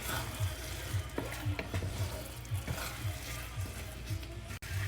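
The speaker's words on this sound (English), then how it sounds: "So just keep mixing it till you got all the liquid evaporated." Glutinous rice being stirred in a pan as its liquid cooks off, soft repeated scraping strokes over a faint low sizzle, close and quiet with no talking.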